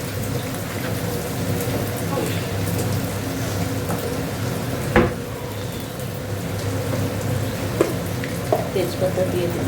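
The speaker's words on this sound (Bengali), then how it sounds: "পেঁয়াজটা একটু ভাজা হোক।" Onion frying in a pan with garam masala and bay leaf gives a steady, close sizzling hiss with occasional small crackles and pops.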